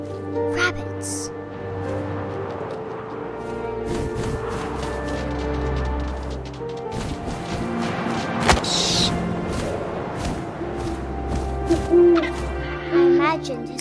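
An owl hoots in the video game What Remains of Edith Finch, low tones set against wind and game ambience, with some crashing and thwacking hits near the middle and end.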